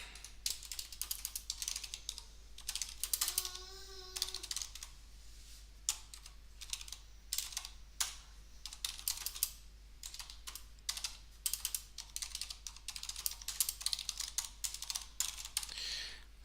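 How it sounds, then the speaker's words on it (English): Rapid, irregular keystrokes on a computer keyboard while coding a Tetris game in C/C++, close and fairly quiet, running steadily throughout with a brief tonal chirp early on. "So that was a lot of mundane typing"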